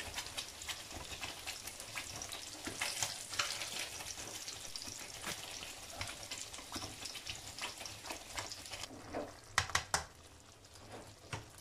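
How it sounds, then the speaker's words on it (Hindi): Pieces of fish are added to prepared masala in a pan for fish curry, and a steady sizzle and crackle runs throughout with occasional stirring clicks and louder knocks near the end, close and fairly soft. "ये जो मसाला हमने तैयार किया था इसके अंदर हम अब डाल देंगे जी फ़िश"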